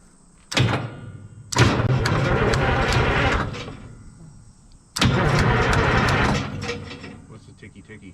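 A 1978 Hein Werner 25-ton excavator's old diesel engine cranks and fires twice, each start a sudden loud roar that runs for a few seconds and then fades, with people talking nearby.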